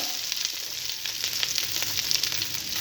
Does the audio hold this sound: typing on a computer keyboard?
no